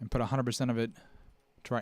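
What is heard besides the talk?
None of the usual background noises is heard.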